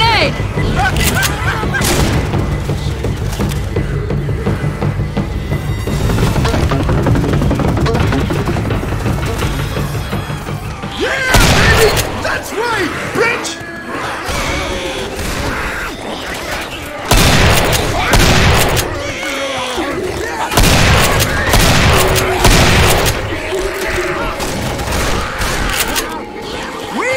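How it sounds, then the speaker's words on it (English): Loud bursts of gunfire and booming blasts from Left 4 Dead 2 combat, with a grenade explosion among them, repeating through the stretch amid game noise and some voices. "Grenade!"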